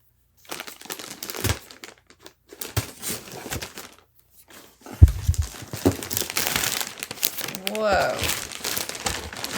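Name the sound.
cutting open a cardboard package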